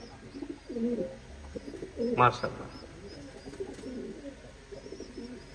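Tournament racing pigeons cooing softly in a loft, several low throaty coos scattered across a quiet background, with someone speaking briefly nearby.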